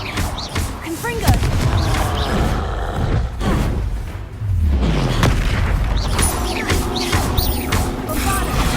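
Confringo fire spell explosions in the video game Hogwarts Legacy, a series of heavy booming blasts and crashes mixed with combat effects and shouted voices, loud and close throughout.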